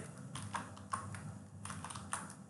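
Someone types a keyboard shortcut on a computer keyboard, producing a few faint, close clicks and taps spaced irregularly against a quiet room hum.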